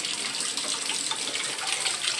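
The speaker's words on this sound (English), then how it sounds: "I'm just gonna rinse it off with regular water" Running tap water splashing over a chrome-plated metal piece as it is rinsed, a steady close hiss of flowing water with no voices.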